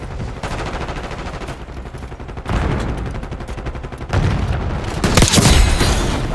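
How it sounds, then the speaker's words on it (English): Heavy gunfire in a Call of Duty battle, with sustained machine-gun bursts layered with booming sniper shots and distant blasts, loud and continuous and growing denser toward the end, with no talk. "Head down! Sniper working!"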